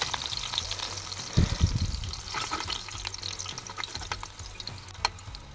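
Chopped green chillies frying in hot oil in a pan for a quick Karnataka-style egg stir-fry, giving a steady close sizzle with a short burst of louder spatter and light clinks of stirring.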